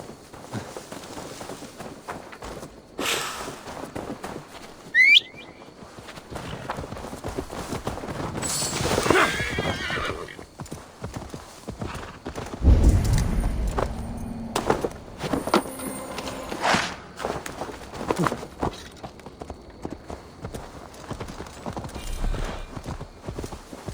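Steady clip-clop of horse hooves with a brief whinny in Assassin's Creed Valhalla, set among game sounds and ambient noise; no speech.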